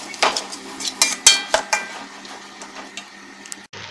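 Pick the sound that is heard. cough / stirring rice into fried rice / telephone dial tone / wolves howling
stirring rice into fried rice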